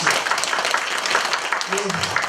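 An audience at an academic seminar in a large hall claps steadily, a dense, continuous patter of many hands, with a voice speaking over it near the end.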